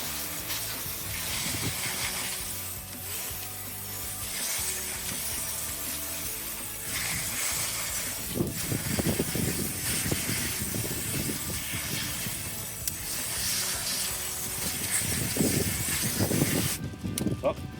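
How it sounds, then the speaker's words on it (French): Water from a watering can rinsing a bicycle chain outdoors, a steady hissing spray with splashy bursts, heard under someone speaking. "on prend l'arrosoir, on va rincer comme il faut"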